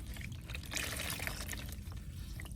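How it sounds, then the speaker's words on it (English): A washcloth dipped into a basin of water during perineal care, giving a steady wash of pouring and trickling liquid with soft splashes, close and continuous throughout. "we're going to take your first washcloth, dip it in the water"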